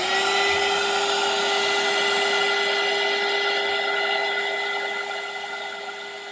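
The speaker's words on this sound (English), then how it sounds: "I'm going to put some heat shrink on the Litcessory connections just to keep them protected" A heat gun runs steadily while shrinking heat shrink tubing over LED strip light connectors, a continuous close blowing hiss with a constant whine that eases slightly toward the end.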